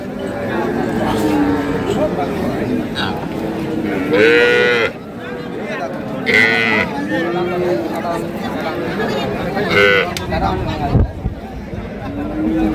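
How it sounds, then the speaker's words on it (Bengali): Cows and calves moo several times amid a crowd's steady chatter and hubbub outdoors at a livestock market in Cumilla, with people talking close by throughout. "এখানে একটি গরু আর এখানে একটি বাছুর"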